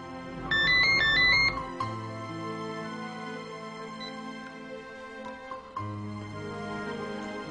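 A phone rings with an incoming call, a melodic ringtone with a bright chiming phrase at the start and then a softer repeating tune, playing alone with no voices.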